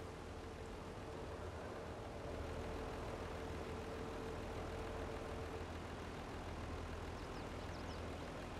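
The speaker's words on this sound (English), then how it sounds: "The wind sounds kind of terrifying." Steady broadband wind roaring and rushing through a forest in a hard-mode logging video game, a constant low rumbling wash with a faint tonal hum, continuous and fairly loud with no talking.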